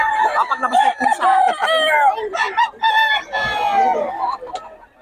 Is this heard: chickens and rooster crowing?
yes